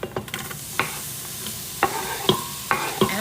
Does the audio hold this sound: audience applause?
no